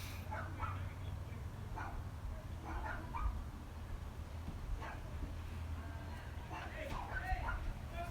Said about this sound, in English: My dogs are barking, crazy.